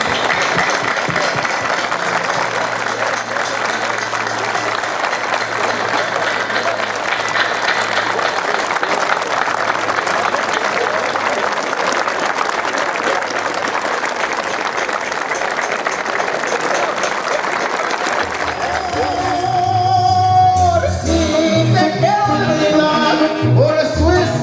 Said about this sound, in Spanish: un minuto de aplauso para el güero de Comala.